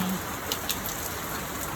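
Continuous rain on a gray morning, a soft, even hiss of falling water with a couple of faint distinct drop taps, quiet and steady throughout.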